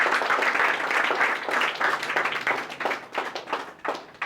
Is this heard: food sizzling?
no